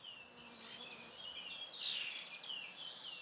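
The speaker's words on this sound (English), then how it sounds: "Oh, that's a relatively rare bird. A bullfinch." Bullfinch calling in a wild garden near Lake Constance: a few thin, high whistled notes repeating over about three seconds, faint and fairly distant against a quiet outdoor background.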